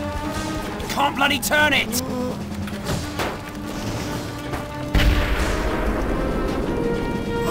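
A grenade goes off in the game Full Spectrum Warrior, with a loud burst near five seconds that fades into a rumbling tail, following earlier gunfire and shouted talk.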